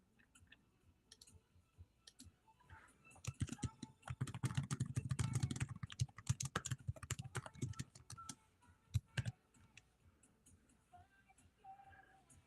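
Someone types on an aging computer keyboard, with quick bursts of soft clicking keystrokes that build into a dense flurry in the middle and then thin out to scattered taps, heard up close and fairly quiet.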